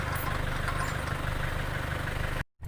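Tractor engine idling at a steady low rumble on a rice paddy trip, close and continuous with no talk, cutting out abruptly near the end.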